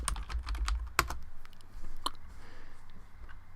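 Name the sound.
typing on a computer keyboard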